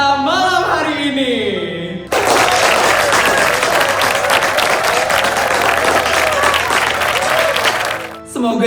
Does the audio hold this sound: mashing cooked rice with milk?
no